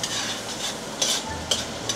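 Garlic frying in butter in a pan, a steady close sizzle with a few brighter spatters and some stirring, no talking.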